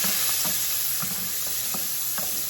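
Yellow onions frying in a pan, a continuous bright sizzle with soft intermittent stirring scrapes, close and steady, with no talking.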